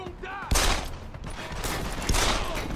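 Pistol gunfire in the video game Deus Ex: Human Revolution, with two loud sharp bursts of shots about one and a half seconds apart over a low game background.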